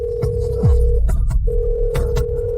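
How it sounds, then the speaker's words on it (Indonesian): Telephone ringing tone heard during a call, a steady electronic tone sounding in two long bursts separated by a short gap, with low rumbling background noise underneath. "Keluarkan ponselmu. Telepon Bapak Cross."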